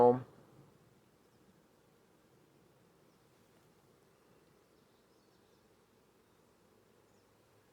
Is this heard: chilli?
no